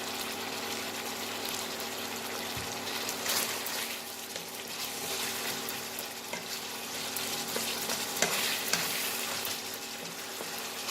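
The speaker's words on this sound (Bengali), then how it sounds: "এটাকে খুব ভালো করে নাড়াচাড়া করব" Chilli egg sauce bubbles and sizzles in a pan for a long, even stretch while it is stirred, with a few faint clicks and scrapes under the constant hiss.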